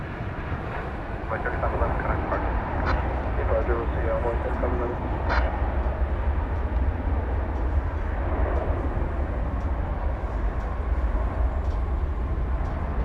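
Jet airliner landing at DFW Airport, a steady broad engine and airflow roar sustained throughout, with people talking over it.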